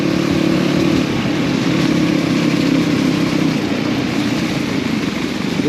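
A Yamaha Ténéré 700 motorcycle on a 20-hour Téléthon endurance ride drones loudly and steadily at full throttle, the close engine roar holding constant for several seconds with no voices.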